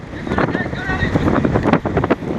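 Gusting wind buffets the microphone at an amateur football match in İzmir, a low, rumbling rush that swells and fades under a commentator talking steadily over it.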